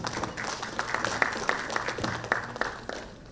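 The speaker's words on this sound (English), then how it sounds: "Please give him a big round of applause" Applause from the audience at a business summit session. It is scattered and moderate, with distinct individual claps standing out over a soft crowd background for a few seconds.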